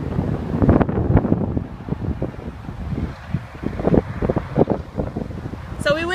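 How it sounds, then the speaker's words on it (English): Strong, gusty wind buffets the microphone outdoors after a rainstorm, producing loud irregular rumbling bursts throughout. "Sorry, it's so windy."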